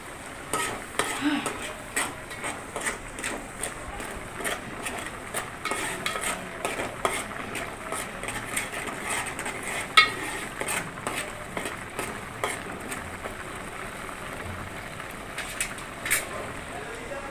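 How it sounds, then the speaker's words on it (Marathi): Spice masala and salt roast in a pan, giving a soft continuous sizzle. Frequent scrapes and clinks from a metal spoon stirring against the pan sound throughout, with a faint voice now and then in the background. "आपण एकच चमच मीठ घालूया मसाल्याला एकदम छानसं भाजून घेऊया आपण"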